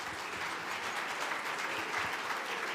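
A launch-ceremony audience at an awards event applauds steadily in a dense, even wash of many hands clapping, moderately distant and sustained throughout.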